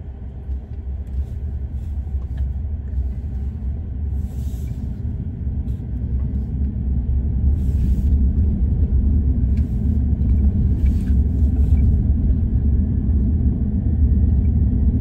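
Tesla Cybertruck driving: a steady, low road rumble from inside the cabin that swells gradually as it picks up speed, with faint clicks and ticks on top.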